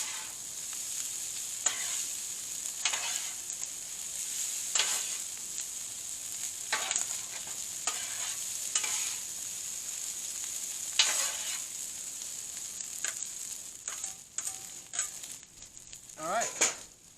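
Shrimp fried rice sizzles as it is stir-fried and tossed, with steady frying hiss broken by repeated sharp scraping and clattering bursts from the tossing, close and moderately loud.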